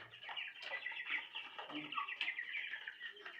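Broiler chickens on a farm cluck and squawk in short, overlapping bursts, close and fairly quiet, with a continuous chatter of several birds.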